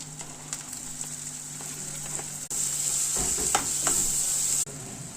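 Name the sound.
sautéing onions in a pan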